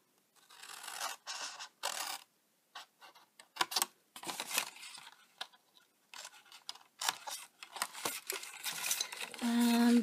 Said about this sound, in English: I'm going to take the scissors now